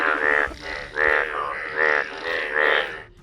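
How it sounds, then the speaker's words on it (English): A frog in Madhya Pradesh, India, croaks four times in a slow, regular rhythm, each croak a buzzy, throaty pulse, fairly close with nothing else behind it. "They are actually frogs."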